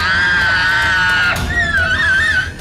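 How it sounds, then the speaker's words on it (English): Loud, piercing witch-like cackling scream, a sustained shrill wail that breaks and wavers into a warbling, laugh-like cry, filling the whole moment at close range. "it was a cross between like a laugh and a scream. It was almost like a cackle."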